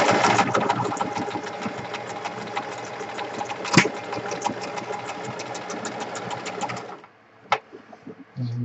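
Sewing machine stitching envelope pockets, a dense rapid run of needle strokes lasting about seven seconds with one sharp knock midway, then stopping abruptly into near quiet with a brief click.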